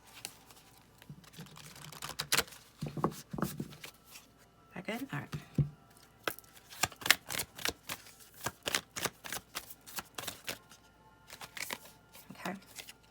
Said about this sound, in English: I'm being guided to shuffle again.